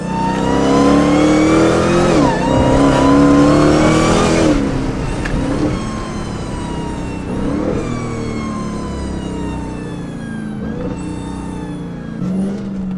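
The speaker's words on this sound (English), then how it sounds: "This Whine is loud as shit." A loud, high-pitched supercharger whine rising and falling as a 1,000-horsepower Dodge Charger with a Demon engine revs and accelerates, steady and close, with no talking.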